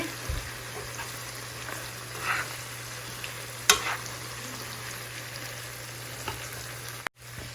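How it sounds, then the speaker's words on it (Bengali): Onion, garlic and spices sizzle steadily in a pan for a dried fish bhuna, with occasional scrapes and clinks of stirring close by and no talking. "পেঁয়াজ রসুন এগুলো একটু ভালো করে ভুনা ভুনা করে নেব"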